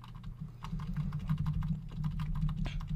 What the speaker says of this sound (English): just nudge it up with my arrow keys